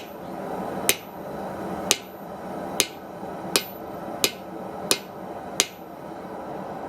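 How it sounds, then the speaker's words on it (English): A blacksmith's hammer strikes a wedge to cut metal, seven sharp ringing blows spaced about a second apart, each a crisp clang that decays quickly, close and alone. "we're going to take the hammer and give it a good hit"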